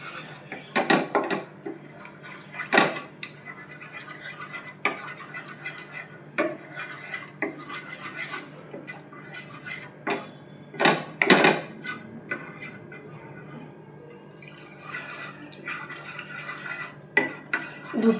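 Spoon scraping and clinking against a pan while white sauce for cheese pasta is stirred off the heat, with irregular knocks and scrapes, fairly close and moderately loud, no talking.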